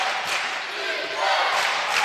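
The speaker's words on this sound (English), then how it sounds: "The crowd willing the Eagles to hang in there." Crowd in a school gym at a basketball game between Quentin Road and Heritage, a broad, loud roar of cheering and shouting that swells steadily throughout.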